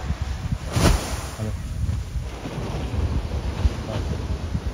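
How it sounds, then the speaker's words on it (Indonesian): Heavy ocean surf at Kapuah, Tarusan, Pessel roars continuously with a big crash near the start, wind buffeting the microphone throughout. "Ombaknya luar biasa besar."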